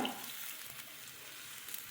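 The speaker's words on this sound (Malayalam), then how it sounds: "ഇതിലേക്ക് നമ്മൾ കലക്കി വെച്ചിരിക്കുന്ന മുളക് പൊടിയും ഉപ്പും പുളിയും കൂടെ കലക്കി വെച്ചിട്ടില്ലേ, ഇതിലേക്ക് നമ്മൾ ഒഴിച്ചു കൊടുക്കുക" A mixture of chili powder, salt and tamarind poured into a hot pan hisses and sizzles steadily, fairly faint, with no talking.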